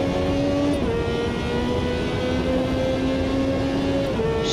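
A race car in the Automobilista 2 racing game holds a steady, loud engine note with slight pitch dips as the throttle is feathered, a continuous close drone lasting under five seconds without speech.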